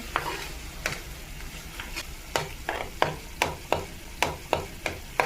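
Tuna cooks in a pan while a spoon stirs it in a regular run of sharp scraping strokes over a soft background sizzle, the strokes quickening and getting louder midway.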